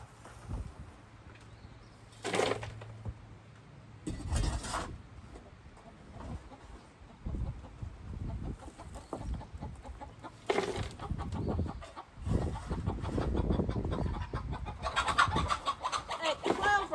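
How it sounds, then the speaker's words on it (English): Hens cluck and squawk on and off, growing more agitated toward the end as cats bother them, with a few brief bangs and rustles nearby. "Cats are aggravating the chickens."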